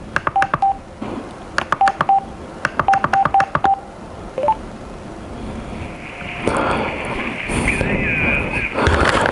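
Rapid bursts of intercom keypad tones played through headphones into a helmet camera microphone, clustered beeps in irregular groups, followed by wind rush and a steady tonal hiss.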